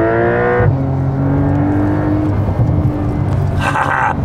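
A Porsche fitted with an Akrapovic titanium exhaust, heard close up: a high rev falls to a low burbling idle, then sharp exhaust pops crackle near the end.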